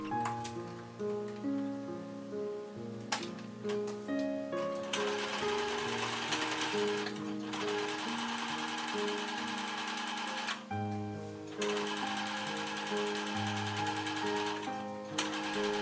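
A sewing machine top-stitches the neckband of a hanbok, its needle chattering in fast rhythmic runs that stop and restart several times, close and clear, with soft background music underneath.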